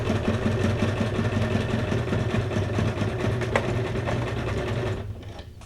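A sewing machine stitching steadily with a fast, even mechanical whir and rhythmic needle clatter, loud and close, running for about five seconds before stopping abruptly.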